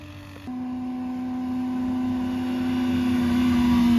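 A Honda CBR600RR motorcycle stuck in first gear idles nearby with a steady droning engine note that lifts slightly and holds, a low hum that slowly swells in loudness.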